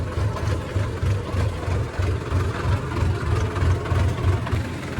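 A tractor engine idles close by with a steady, low, pulsing chug that runs evenly and alone, with no talk over it.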